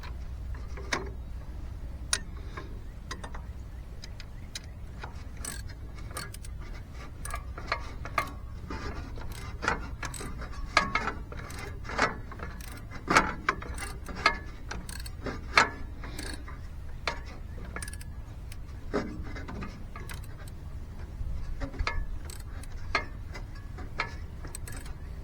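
A ratchet clicks in short uneven runs while tightening bolts on a 1946 Jeep, sharp metallic ticks scattered over a low steady background hum, close and moderately loud, with no talking.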